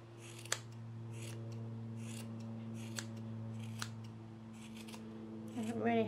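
Scissors trimming a yarn pompom give a run of quiet, crisp snips at irregular intervals over a steady low hum, with a brief rustle at the end.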